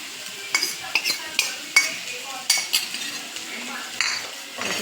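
Bhendi masala (okra with spices and green chilies) being stirred in a pan, a spoon scraping and clinking against the metal in a series of sharp taps over a faint sizzle.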